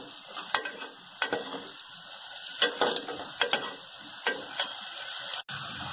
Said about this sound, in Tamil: ஆனியன் கொஞ்சம் நல்லா வதங்கணும்.